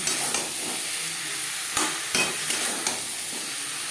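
Potatoes, tomato and spices being stirred in a frying pan for a koi fish curry, a steady close sizzle with a few sharp scrapes of the spoon against the pan.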